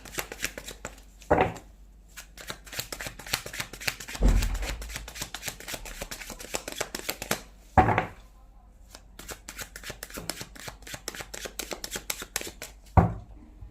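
Tarot cards are shuffled by hand in a quiet room: several crisp riffling bursts with softer shuffling between them, close and clear, with no voices.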